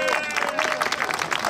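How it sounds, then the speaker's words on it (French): An audience at a town fair applauds the town-centre bakers, a short burst of lively crowd clapping mixed with murmuring voices and a faint tone in the background. "Donc un grand merci, vous pouvez les applaudir très fort."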